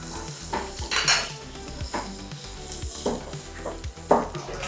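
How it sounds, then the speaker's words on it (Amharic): Butter sizzling in a hot pan for a steak sandwich, with a steady fry punctuated by clinking and scraping of a utensil against the pan every second or so. "መጥበሻ ግለን በበተር ነው የምንጠብሰው"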